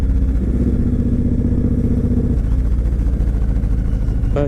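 A used Suzuki Boulevard C109R 1800cc cruiser motorcycle engine runs steadily nearby, a deep, loud, continuous throb with a slight shift in tone partway through, heard alone without talk.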